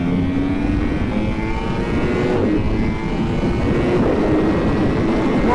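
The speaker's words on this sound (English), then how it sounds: "here's a lap of Buram on board a Yart R1 with VO3 slicks" A Yamaha R1 on Michelin-style VO3 slick tyres laps the Buriram circuit, its engine a loud, steady, continuous roar heard close from on board, with wind rush and no pauses.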